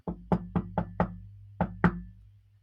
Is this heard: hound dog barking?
no